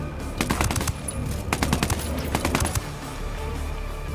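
Rapid automatic gunfire in Ghost Recon Wildlands, loud bursts of machine-gun rounds clustered in two volleys with a steady din between, no talking.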